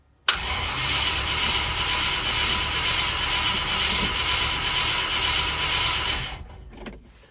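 A car engine cranks on a cold start, a steady mid-loud whirring churn lasting about six seconds without catching, then stopping into faint clicks.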